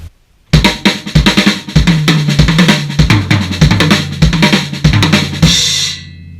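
Drum kit plays an RLRLLK lick up to speed, loud dense rapid rolls of drum and kick strokes in a driving repeated pattern, finishing on a sustained cymbal crash.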